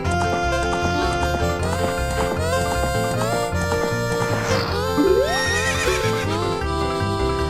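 A horse neighs in the video game The Legend of Zelda: Ocarina of Time, a rising whinny partway through that sits under steady, loud in-game music.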